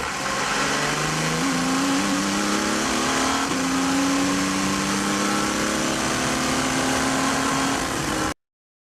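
Audi R10 TDI V12 turbodiesel race car heard onboard at Le Mans, a loud, continuous engine drone with rising gear-by-gear pitch sweeps under heavy wind and road roar, cutting off abruptly at the end.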